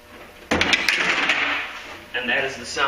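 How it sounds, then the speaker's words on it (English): A wrench drops with a sudden clank inside a Duramax truck's hollow door panel, followed by rattling and scraping as it settles to the bottom. "And that is the sound of dropping your wrench into the bottom of the door."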